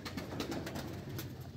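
Flute pigeons (koka kobutor) in a freshly cleaned loft coo in a soft, continuous low murmur, faint and steady throughout.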